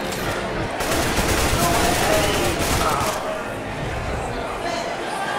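A shotgun blast in Counter-Strike: Global Offensive deathmatch, a loud burst of gunfire amid dense, continuous game noise with overlapping shots and crowd-like chatter throughout.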